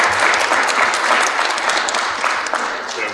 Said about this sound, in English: Let's clap it up for everybody.